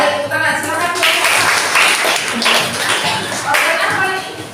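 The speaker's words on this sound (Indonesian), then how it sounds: "Baik, tepuk tangan." A classroom of students applauding together, a dense burst of loud clapping swelling and fading in a couple of waves, close and bright, with a voice briefly heard among the claps.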